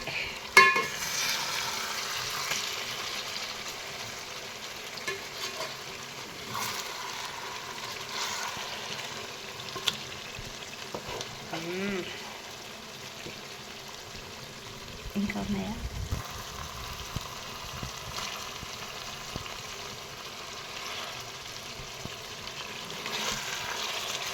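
Fish pieces fry in a pan and are carefully turned, giving a low continuous sizzle with occasional scraping and clinking of the utensil, under a voice that talks on and off.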